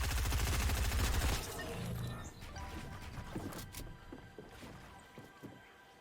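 Gunfire in the Fortnite video game, with a loud dense burst of rapid shots at the start, then scattered quieter shots and impacts continuing behind the action.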